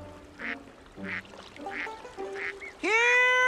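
A duck gives a series of four short quacks at a steady pace, fairly close, followed by a louder, tonal honk-like call at the end.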